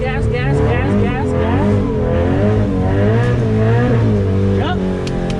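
A drift car at a drifting event, heard from inside, its engine loud and continuous, the revs climbing and falling in waves as the throttle is worked.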